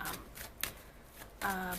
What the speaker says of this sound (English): for the rest of you who decides to stay and watch me shuffle